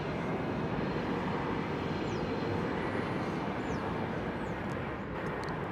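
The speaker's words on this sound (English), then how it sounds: "This is American Eagle Flight 3373 in Embraer 175 from Fort Smith," An American Eagle Embraer 175 jet airliner arriving on runway 18 left at DFW Airport, heard as a steady, loud, unbroken engine roar and rush of air that fills the whole stretch without any pause.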